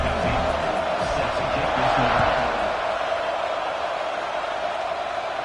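A dense stadium crowd at a college football game, Arizona State against USC, roars steadily as the teams line up for a kickoff, a loud continuous wash of cheering that swells slightly and then holds.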